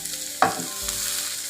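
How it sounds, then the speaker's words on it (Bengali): Chopped garlic hits hot oil in a wok for a bottle-gourd peel and egg dish, a sharp burst of sizzle and a quick stir, then a steady crackling fry close by. "রসুন কুচিটা আগে একটু ভেজে নিতে হবে।"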